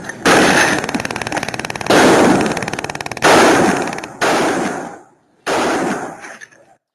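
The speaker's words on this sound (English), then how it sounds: "Here's another one that involves gunshots and a taser." Recorded police-incident audio with a burst of gunfire and a taser, loud repeated cracks in several dense bursts of rapid popping separated by short gaps, ending in a fading tail.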